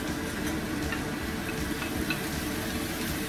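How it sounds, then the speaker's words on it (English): Ground beef dropped into a pot of cooked sweet potato and onions for a hearty beef soup, giving a steady, fairly loud sizzle with a dense hiss throughout and no talking. "what we're going to do next is we're going to add the ground beef"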